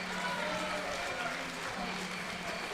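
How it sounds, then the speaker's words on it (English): A crowd at a 3x3 basketball World Cup quarter-final applauds in a steady wash of clapping, fairly faint and distant, under a commentator speaking. "Chinese crowd, of course, applauding their fellas."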